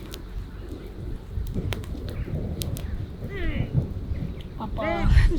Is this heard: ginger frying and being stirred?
no